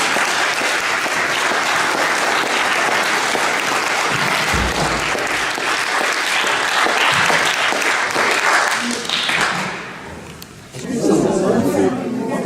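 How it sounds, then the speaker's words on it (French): An audience applauds a lecturer at an ecumenical Lenten gathering, dense and sustained clapping that runs for about nine seconds before fading, then a brief murmur of voices as it dies down. "après avoir applaudi une dernière fois notre conférencier"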